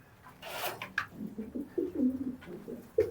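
Pigeons in a loft give soft, close coos in short phrases, with a rustle near the start. No voices are heard.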